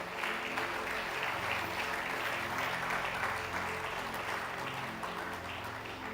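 A church congregation at a Portuguese-language worship service applauds loudly and steadily, a dense continuous roar of clapping over a low background of music that holds evenly throughout.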